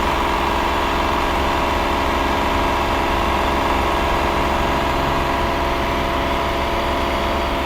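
A car engine held at 2500 RPM during a vehicle inspection, an even, constant hum with no change in pitch throughout.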